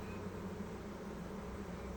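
Honeybees buzz steadily inside a feeder on a long Langstroth hive in winter, some of them struggling in the liquid, making a close, continuous, low droning hum with no talk.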